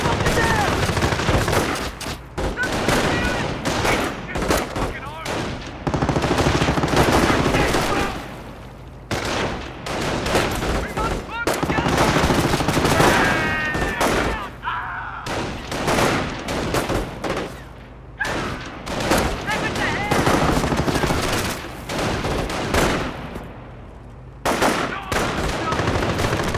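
Small arms gunfire crackles in the Company of Heroes strategy game, with dense, loud bursts repeating in clusters over the battle ambience and brief gaps between volleys, and a voice is heard faintly among the shooting.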